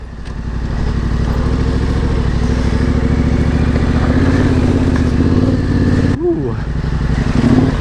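A Yamaha Tenere 700 motorcycle rides through mud, its engine droning loud and steady close by with a constant throbbing rumble. Near the end the throttle drops briefly and then picks up again. Wind noise sits over the engine.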